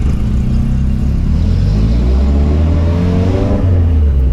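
A 1992 Daihatsu Zebra Turbo S89 engine revs loudly and close by. Its deep, rumbling drone is steady and climbs slightly in pitch, with no talking.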